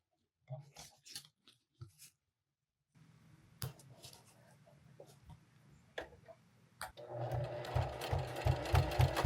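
Sewing machine running a quarter-inch seam down a zipper on a fabric range bag: a few short bursts of stitching, then a steadier, louder run of rapid rhythmic needle clatter building toward the end.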